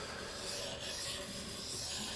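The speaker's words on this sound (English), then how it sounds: "I do this little S pattern back and forth real lightly. I'm just lightly letting that blade edge hit all that oil" A steady, light rubbing rasp of a D2 tool steel combat knife blade swiped back and forth across an oiled sharpening stone, close and continuous with no talk.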